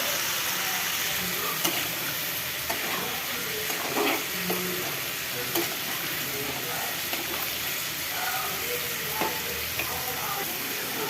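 Spice paste for a pointed gourd curry frying in a pan, a low continuous sizzle with occasional scrapes and stirring knocks throughout, fairly quiet and steady with no talk.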